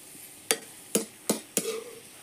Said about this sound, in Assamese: এইফালে পিঁয়াজ অকণমান ভাজি আছোঁ তেলতে